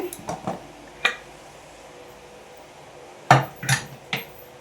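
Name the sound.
opening the lid of a pressure cooker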